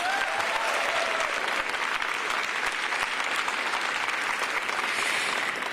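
A crowd applauds Mayor Karen Bass at an Olympic and Paralympic flag installation press briefing, steady, even clapping that holds for several seconds with no break.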